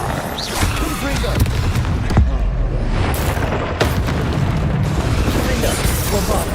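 Confringo fire spell explosions in Hogwarts Legacy, heard as loud repeated booms and bursts layered over continuous game combat noise, with a voice talking throughout.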